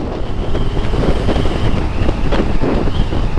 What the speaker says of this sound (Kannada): ವಿಂಡ್ಸ್ ಜಾಸ್ತಿ ಇದೆ ಇಲ್ಲಿ ಗಾಳಿ ಹೆವಿ ಆಗೈತೆ